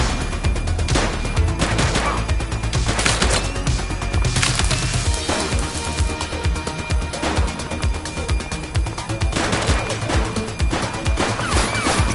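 Gunfire rings out in a shootout with an armed woman, a dense run of loud overlapping shots and crashing impacts that keeps going without pause throughout.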